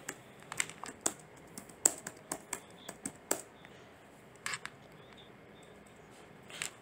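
Someone types on a computer keyboard while entering a search for PAN card reprint status: irregular clusters of crisp key clicks with brief pauses, close and fairly quiet, with no talk.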